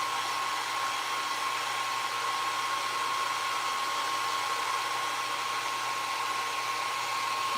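A hair dryer blows steadily on a craft piece coated with Mod Podge, a constant loud whirring hiss with a thin high whine, running unbroken throughout with no talking.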